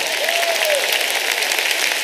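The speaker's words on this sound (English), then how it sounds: "Clap your hands and give God a praise right there." A church congregation claps their hands together in praise, a dense, steady wash of applause filling the room without pause.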